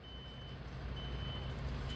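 An old Hiab crane delivery truck gives off a faint, steady run of reversing beeps over a low engine rumble, heard from some distance.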